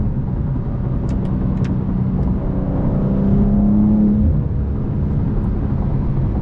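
A BMW M2 with M Steptronic automatic cruising and accelerating on a twisty freeway, a steady close drone of engine and exhaust with road and wind noise, the note rising slightly in pitch midway.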